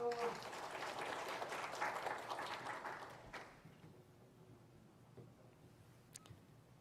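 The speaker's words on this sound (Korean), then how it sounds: "박수" A church congregation at a Sunday service claps briefly in soft, moderately distant applause for about three seconds, then the hall falls quiet apart from a few faint clicks.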